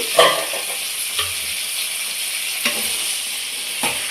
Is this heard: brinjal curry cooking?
yes